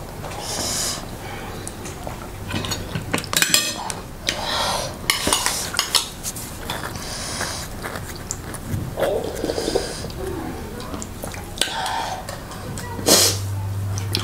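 Dishes and cutlery clatter and bang repeatedly at a momo-eating challenge, with sharp irregular clinks and knocks close by over a busy background.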